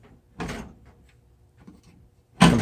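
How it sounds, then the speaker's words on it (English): A drawer on a HyperTough 5-drawer, 20-inch tool chest with riser slides open in two short, fairly loud bursts, one early and one at the end, with quiet pauses between. "you go to open these drawers"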